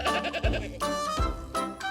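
A goat bleats several times in quick succession, a wavering, nasal cry close by, over a soft rhythmic musical background.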